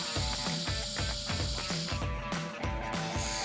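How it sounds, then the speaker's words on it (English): A belt sander grinds a plywood lid down to marked lines, loud and continuous with rhythmic pulses as the piece is pushed against the moving belt, close by with no talk. "Going back onto the belt sander, we can then sand down to our lines nice and accurately to create our lid"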